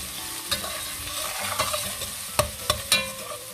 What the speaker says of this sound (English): Now we will saute this for 2 minutes